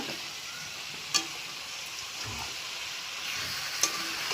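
Vegetable curry sizzles and fries in a pan at a steady, moderate level while being stirred, with two sharp clicks of a utensil against the pan and no one speaking.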